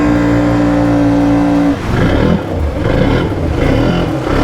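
A motorbike on prototype mud tires revs loudly and steadily, then its tone breaks into a rougher, fluctuating roar as the tires spin rather than grip, close and continuous throughout.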